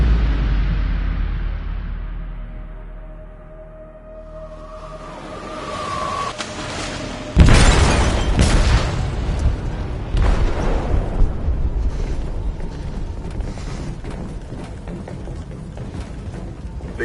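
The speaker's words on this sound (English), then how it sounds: "They detonated an explosive in the hold." A blast in a ship's hold in the game Detroit: Become Human, with a deep booming roar that fades, then a sudden loud second burst around the middle that rolls on as sustained rumbling and crackling debris.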